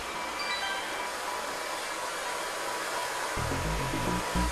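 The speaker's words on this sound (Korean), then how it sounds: "드라이기 소리" A hair dryer blows with a steady, loud whooshing hum, running alone, its motor note shifting slightly near the end.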